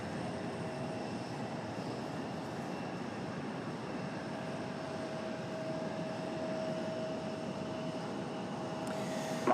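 Steady broadband jet roar of an airplane at Raleigh-Durham International Airport, a constant rushing drone with a faint whine, moderately distant, holding level throughout with no talk.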